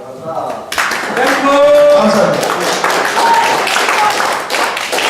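An audience claps at a lecture on the nine valleys of Goesan: applause breaks out after a moment of quiet and carries on steadily while someone speaks over it.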